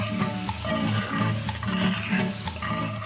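Onion is tossed into a hot frying pan and stirred, giving a continuous sizzle with scraping, clattering stirring strokes. The sound is close and fairly loud, with no talk.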